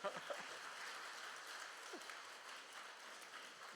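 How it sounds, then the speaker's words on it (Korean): A church congregation gives a faint, distant round of applause during a Sunday morning service, a soft even patter of clapping with a few louder claps at the start. "오래간만에 나오니까 박수도 받네요"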